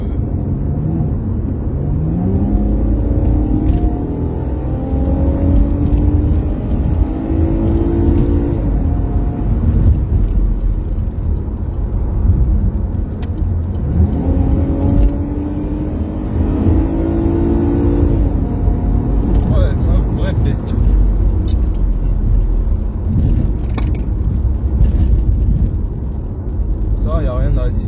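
Chevrolet Camaro RS driving over a bumpy road, its engine rumbling and whirring steadily throughout as someone talks over it for most of the stretch.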